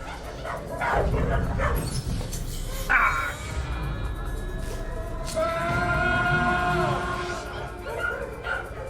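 Dogs yip, bark and whimper in a noisy, echoing space, with people talking over them.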